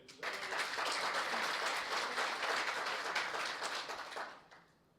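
An audience at an Overseas Pakistanis Global Foundation convention breaks into a burst of applause for singer Ustad Rafaqat Ali, clapping densely for about four seconds before it fades out.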